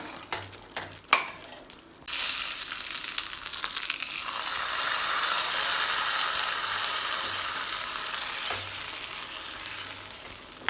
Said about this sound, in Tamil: கடுகு உளுந்த பருப்பு கருவேப்பிலை தாளிச்சு கொட்டியாச்சுங்க